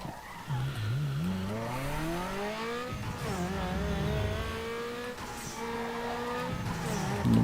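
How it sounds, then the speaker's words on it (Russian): Car drifting in Need for Speed, a steady engine drone with rising and falling revs under a long continuous tire squeal that holds for several seconds, loud and close throughout. "Думаю, сейчас дрифт сделаю"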